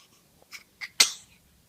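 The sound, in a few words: baby sneeze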